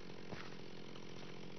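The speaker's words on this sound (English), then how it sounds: "chopping away with the chainsaw" Chainsaw in modded Minecraft chopping wood, a steady buzzing drone that runs unbroken throughout at a low, even level.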